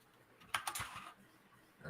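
A short burst of typing on a computer keyboard, a handful of close, quiet key clicks in quick succession, then near silence.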